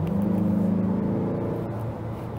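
A 2022 Mazda CX-5 Turbo's 2.5-litre turbocharged engine accelerates close by, a deep rising drone with a whirring tone that eases off toward the end.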